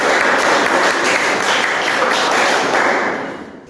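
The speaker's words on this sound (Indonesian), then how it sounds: "Berikan tepuk tangan." A classroom group of students applauds after a group presentation, a loud, dense burst of many hands clapping close by that holds steady for about three seconds and then quickly fades out.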